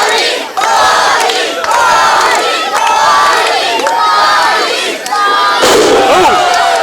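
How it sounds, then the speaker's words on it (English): Wrestling crowd at a Total Carnage 2023 event, a loud, dense mass of voices chanting and shouting in rising and falling waves, close and continuous throughout. "you can hear the crowd chanting for Bobby Valentine here"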